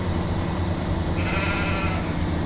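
Sheep bleat on a farm in Farming Simulator 17, the calls steady and fairly close over a constant low engine-like hum from a tractor cab.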